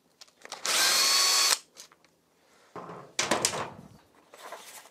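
Power tool whirring as it spins bolts out of a Honda CBR125R engine during a clutch and oil strainer replacement, one loud sustained burst followed by shorter bursts and clanks of parts being handled.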